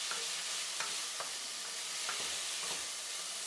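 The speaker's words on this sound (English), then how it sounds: "And we will stir the garlic in." Garlic frying in a pan for paella is stirred, a steady hiss of sizzling oil broken by repeated scraping strokes of the utensil, close and moderately quiet with no voices.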